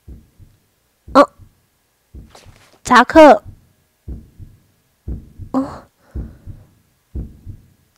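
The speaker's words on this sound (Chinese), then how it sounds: "心跳声？" A heartbeat from the horror RPG Angels of Death thumps low and steady, about once a second, as a voice speaks over it and exclaims loudly at times.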